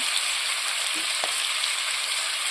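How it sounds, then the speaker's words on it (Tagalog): Onion and garlic sauté in a hot pan with a steady, close hiss of sizzling oil, continuous and even throughout, with one faint clink partway through. "Ito po yan, igigisa ko."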